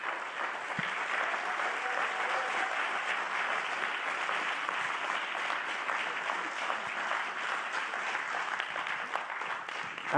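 Sustained applause from an audience at a California government press event, a dense, even wash of many hands clapping that stays loud and steady throughout.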